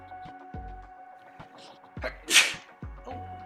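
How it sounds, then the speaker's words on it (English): A single loud sneeze bursts out from a person at a computer, sharp and close, over a soft steady hum and faint background game music. "Oh, I'm going to sneeze."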